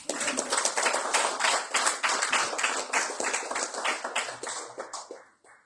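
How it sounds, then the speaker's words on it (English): Audience at an evening program in Brisbane clapping for the hosts, a brisk crowd of hands applauding continuously at moderate level, then tapering off at the end. "One clapping for them"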